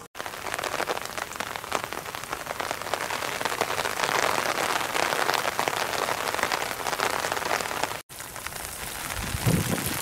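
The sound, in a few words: rain falling on an island coast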